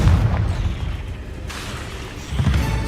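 A Confringo spell in Hogwarts Legacy detonates as a deep, booming explosion at the start, its rumble fading before another heavy thump near the end, with no talking.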